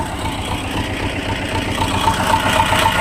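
An old T-25 tractor engine idles steadily on a cold winter day, a loud, close, even mechanical rumble with a faint rhythmic clatter that continues with no pauses.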